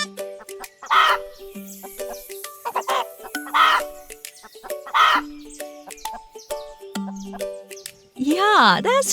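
A chicken clucks in short repeated bursts near the microphone, with a few louder squawks and a rising call at the end, over a quiet farmyard background.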